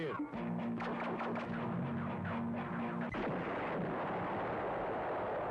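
A planet blows up in a cheap Turkish Star Wars film, a deep rumbling blast that swells after a held musical tone cuts off, then rolls on as a loud, noisy roar.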